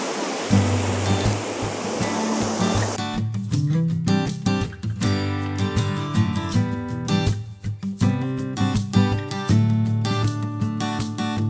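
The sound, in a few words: frothy sea waves breaking on the beach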